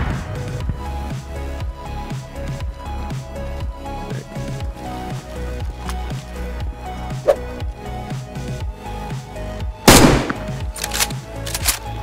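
In the survival game DayZ, rapid gunfire crackles in dense bursts and a sharp grenade blast cracks out near the end. The sound is close and loud throughout, and no one speaks.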